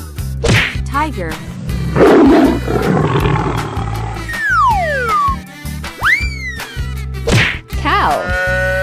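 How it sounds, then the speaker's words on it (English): A cartoon tiger gives a loud, rough roar lasting about a second, layered over lively children's cartoon music with swooping slide whistles in an animal game. "Tiger."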